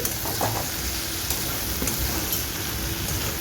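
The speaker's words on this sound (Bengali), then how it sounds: "আমি আরেকবার নাড়ি চাড়িয়ে দিলাম বরবটিটা।" Yardlong beans frying with potatoes in a pan for a dry spicy curry, a steady close sizzle with occasional soft scrapes and taps as the mixture is stirred.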